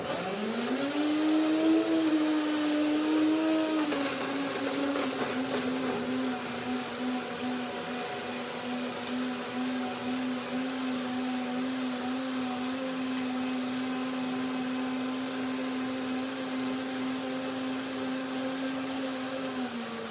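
A kitchen blender whirs steadily while blending a tahini, date and banana smoothie, its motor pitch dipping slightly after a few seconds then holding a constant drone until easing off at the end.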